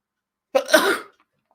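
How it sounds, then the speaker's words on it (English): A single sneeze bursts out close and loud after a brief silence, a sharp intake followed by a noisy half-second release that quickly fades. "I'm going to sneeze again."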